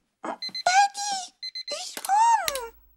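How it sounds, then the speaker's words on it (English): An alarm clock beeps in quick groups of three short tones, twice, between excited children's voices that talk over and around it. "did you set this alarm on purpose?"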